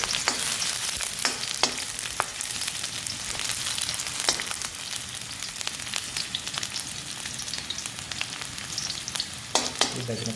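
Chopped onions frying in a pan for homemade kottu, a steady close sizzle with occasional sharp crackles and stirring clinks throughout.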